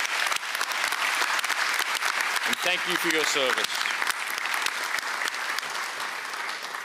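A commencement audience applauds retiring professors, sustained dense clapping throughout with a brief spoken line from a voice over it midway.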